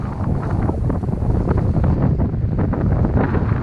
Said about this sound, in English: A little bit less wind here as well.